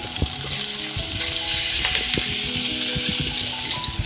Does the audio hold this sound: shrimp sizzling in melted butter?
yes